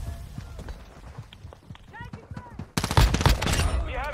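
Pistol firing full auto in Warzone Mobile: a loud rapid burst of shots erupts near the end after quieter footsteps and movement, with a voice talking over parts.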